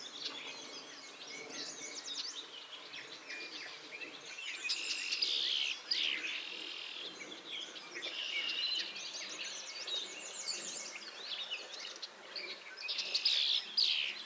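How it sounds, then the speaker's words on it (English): Woodland birdsong along the Appalachian Trail in Pennsylvania, with yellow warbler, red-winged blackbird, northern cardinal, American redstart, Carolina wren and common yellowthroat: overlapping faint, high trills and chirps repeating over a quiet background, no talking. "Yellow warbler, red-winged blackbird, northern cardinal, American redstart, Carolina wren, and the common yellowthroat."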